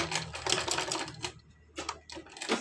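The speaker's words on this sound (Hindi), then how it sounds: "अब हम इसी शेप में हमें इसमें सिलाई लगानी है, तो सिलाई लगा लेते हैं इस तरह" A sewing machine stitches a half collar onto a kurti, running in quick rattling bursts with a short pause midway, close and clear with no talking.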